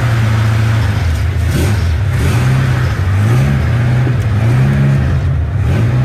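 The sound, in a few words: 1972 Toyota Celica engine accelerating while driving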